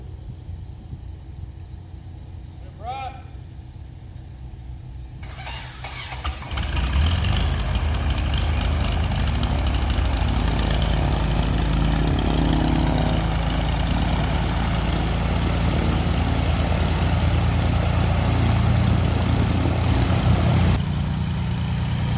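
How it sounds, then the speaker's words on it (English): A small airplane's propeller engine cranks and catches, then settles into a loud, steady idling drone that continues to the end. "clear prop out the window before the engine started"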